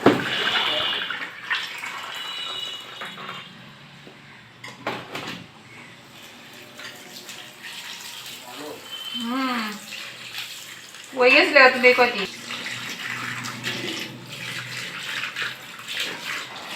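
Cut jackfruit pieces are washed under running tap water, with intermittent splashing and trickling, a few knocks and clatters of handling, and a louder gush near the end.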